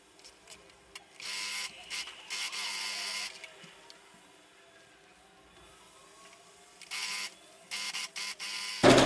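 A sewing machine stitches along the edges of a quilted makeup bag, its motor buzzing in short close bursts separated by quieter pauses, with a louder clatter at the very end.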